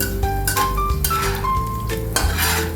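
Garlic and chili fry in a pan for a sweet chili shrimp dish, with a spatula clinking and scraping against the metal over a low sizzle, in quick, irregular strokes.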